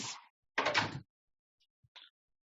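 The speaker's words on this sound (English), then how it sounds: "close the door" An indoor door swings and closes with a muffled rustling push and thud, followed by a couple of faint small knocks in otherwise near silence.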